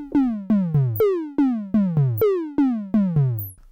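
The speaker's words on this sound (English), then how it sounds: "So that's oscillator one being modulated by the filter envelope generator." A synthesizer oscillator whose frequency is swept by the filter envelope generator, giving a rapid series of about ten loud repeated downward-gliding tonal zaps in an irregular, percussive rhythm.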